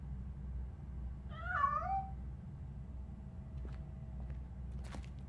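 A cat in RoboCop: Rogue City gives one rising-falling meow, fairly clear over a low steady rumble, followed by a few faint clicks.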